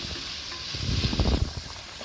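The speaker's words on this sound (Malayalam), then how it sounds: "ഇനി നമുക്ക് തക്കാളി ഇട്ട് കൊടുക്കാം തക്കാളി നന്നായി ചെറുതായി അരിഞ്ഞ തക്കാളി ഇതെല്ലാം ഇനി നമുക്ക് ഇതെല്ലാം കൂടെ നന്നായിട്ട് ഒന്ന് വഴറ്റിയെടുക്കാം" Finely chopped tomatoes and vegetables sauté in a pan for a macaroni dish, stirred with a utensil. A soft sizzle runs under a short burst of scraping and stirring in the middle, close and moderately loud, with no talk.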